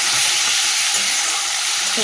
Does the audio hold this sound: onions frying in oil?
yes